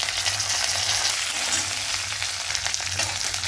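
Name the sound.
mustard seeds and spices tempering in hot oil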